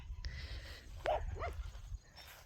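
A puppy gives a couple of short, faint yips and barks outdoors in a ranch garden, over low background rumble.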